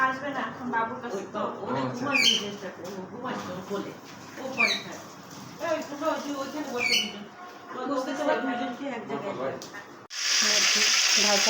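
Oil sizzles and crackles steadily as chicken fries in a pan, with a louder burst of frying near the end and some clinks and voices around it.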